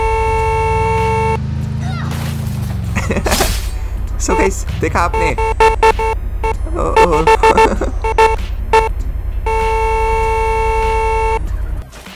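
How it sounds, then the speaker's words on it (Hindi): Repeated vehicle horn honks in the game Free Fire, a few long sustained blasts and bursts of short toots among engine and game noise, with someone talking over parts of it. "इतना हॉर्न मार रहा हूँ मैं बट ये हट ही नहीं रही है"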